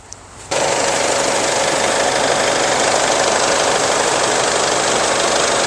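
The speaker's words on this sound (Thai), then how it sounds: "เดี๋ยวสตาร์ทฟังเสียงเครื่องยนต์กันนะครับผม" After a brief quiet moment, an Isuzu Hi-Lander pickup truck engine starts and settles into a loud, steady, rattling idle close by.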